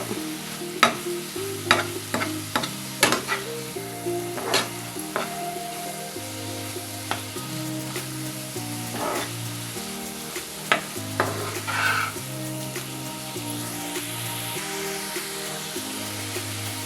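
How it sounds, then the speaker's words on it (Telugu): A spoon stirring semolina and grated coconut as they cook down in sugar syrup, with scattered scraping knocks against the pan over a steady soft sizzle and bubbling, close and unhurried, with no talking. "ఇది వండొచ్చేంత వరకు కూడా ఇలా ఉడికించుకుందాం."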